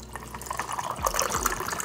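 Lemonade iced tea sweetened with monk fruit and stevia is poured over ice, a steady gurgling liquid stream with light splashing and clinks, close and moderately loud, no talking.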